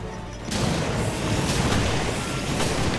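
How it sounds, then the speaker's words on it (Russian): A grenade blast in the Resident Evil: Revelations video game arrives as a sudden loud boom after a short quiet lead-in, followed by a sustained rumbling roar with further thuds layered on top. "Сейчас сразу грену бросаем."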